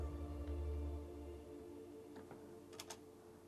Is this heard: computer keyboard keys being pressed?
yes